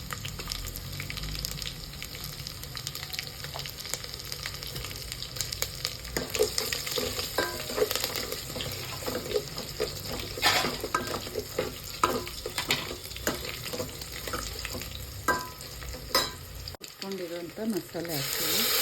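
Mustard seeds, garlic, curry leaves and chillies tempering in hot oil, a loud continuous crackling sizzle with stirring scrapes and pops, a voice talking faintly underneath.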